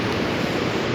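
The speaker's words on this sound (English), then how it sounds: "this is Norway's biggest waterfall" Norway's biggest waterfall near Eidsfjord pours as a loud, close, unbroken rushing roar of falling water that fills the whole moment.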